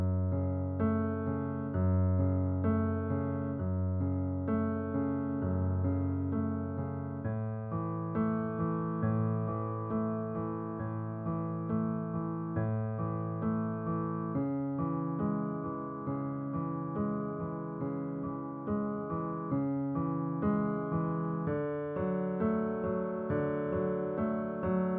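Left-hand piano accompaniment from a piece plays as a steady, flowing run of sustained chords and broken notes for about 25 seconds, even in loudness with no talking.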